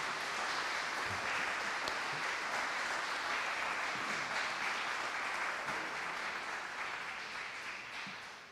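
Audience applause at the closing session of the Monaco Blue Initiative 2025 conference, a steady sustained clapping from a large hall that holds evenly and gradually fades toward the end.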